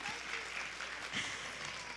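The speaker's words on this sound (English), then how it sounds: "yes, you can clap for them, go ahead." A church congregation gives a short, soft round of applause for children at a Vacation Bible School service, faint and diffuse with a few murmuring voices.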